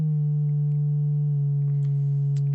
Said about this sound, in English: I'm gonna take one sine wave, I'm gonna go down to a low frequency.